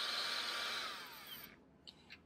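Nitecore BB2 electric photography dust blower in its quieter mode, giving a soft, steady whirring rush of air that fades as the motor winds down, followed by a couple of faint clicks, close by and without speech.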